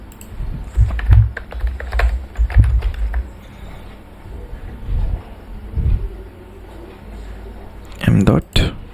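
Computer keyboard typed while an SQL query is entered, bursts of close clacking keystrokes separated by pauses, with someone talking between them.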